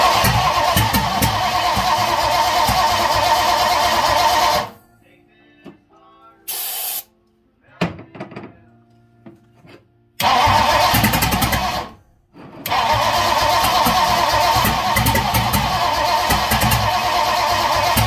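A 1958 Ford Thunderbird engine, sitting on very old fuel, bursts into loud rough running up close, cuts out into quiet gaps with faint clatter, then fires up again in two more sustained runs.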